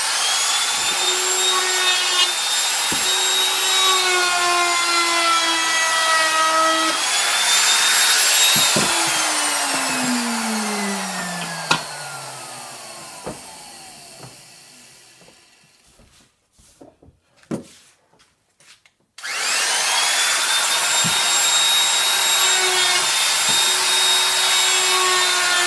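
A power tool routs a rounded corner on a wooden piece for a quilt rack, a loud steady whine that winds down, leaves a gap of scattered knocks, then starts up again.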